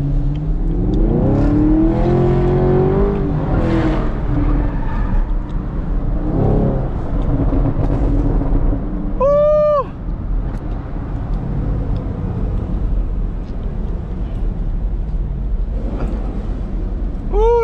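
A Dodge Hellcat Redeye revs hard in city traffic, its loud engine note rising and falling through a series of blips and downshifts, with a brief whining sweep in the middle. No one speaks.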